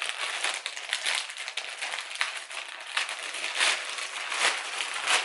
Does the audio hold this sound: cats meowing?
no